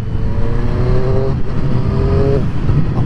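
A 2020 Triumph Street Triple RS motorcycle revs with its auto-blipper, heard as two quick rising engine pulls with crisp blips between gears over loud wind and road roar.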